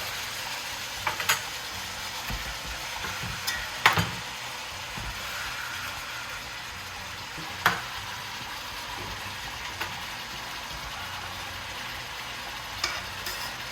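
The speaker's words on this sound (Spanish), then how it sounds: "Aquí lo estamos moviendo para que vaya cambiando de color, se vaya sofriendo." Turkey pieces frying in a pot, a steady close sizzle with occasional soft scrapes and knocks as the meat is stirred, continuing evenly throughout.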